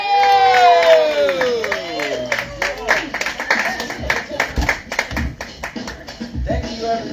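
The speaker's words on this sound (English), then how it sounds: "Big round of applause." A comedy club crowd applauds and cheers for a stand-up comedian, scattered claps and whoops following a loud voice at the start, mixed with lively crowd noise throughout.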